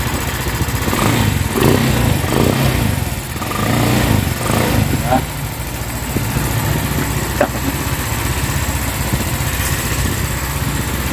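A motorcycle engine is revved on the throttle nearby with a steady buzzing drone that swells and eases over several seconds, while people talk over it.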